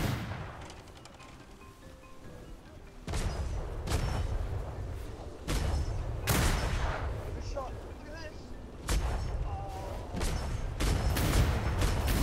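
Cannon fire in a galleon ship battle in the video game Atlas, several heavy booming shots landing a few seconds apart over a constant rumbling background, with a voice talking at times.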